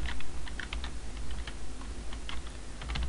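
Steady typing on a computer keyboard while entering a custom log path on an Ubuntu Server 12.04 setup, quick irregular clicks over a constant low hum, close and fairly quiet, no voices.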